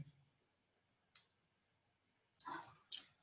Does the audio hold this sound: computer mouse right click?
yes